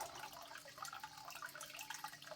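Cold, fresh mountain spring water runs from the mountainside into a pool, a faint, steady trickle and splash with small drips, alone and without voices.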